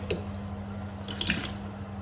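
Running tap water splashes steadily into a sink while food is rinsed under it, a continuous close wash with a few brief drips and clatters, no voices.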